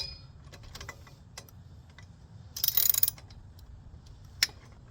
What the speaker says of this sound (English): I'll use my ratchet and screw again, just change the side for tightening it up